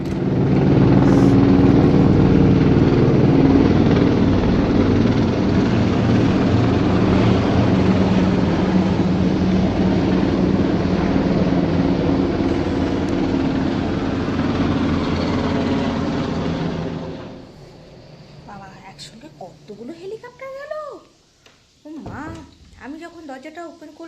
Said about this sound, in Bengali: খেতে খেতে দেখি হেলিকপ্টার আওয়াজ